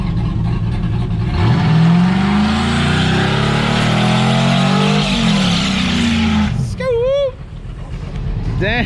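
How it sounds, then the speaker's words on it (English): A 2019 RZR Turbo S with a JL Audio M6 sound system revs hard and burns rubber: a loud engine roar climbs and holds for several seconds, then cuts off as excited voices and whoops follow. "It burned the rubber."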